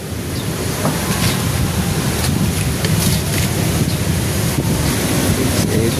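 Steady roar of sea waves breaking with strong wind buffeting the microphone, continuous and loud throughout, with no voices.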